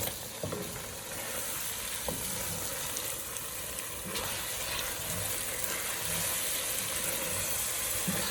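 BBQ chicken being stirred in a hot pan, frying with a steady, close sizzle and hiss, with faint scrapes of the utensil through the pan and no talking.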